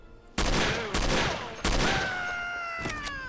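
Carbine gunfire in the shooter No One Lives Forever: a few sharp, loud broadband bursts spaced irregularly, each with a lingering ringing tail, alone without talk.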